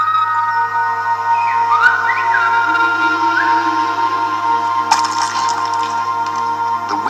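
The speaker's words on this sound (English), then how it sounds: "The Gomeran whistle is in the island" Silbo Gomero, the whistled language of the Canary island of La Gomera, carried by sliding, tonal whistles that rise and fall in pitch over a steady background, with a sharper burst near the end.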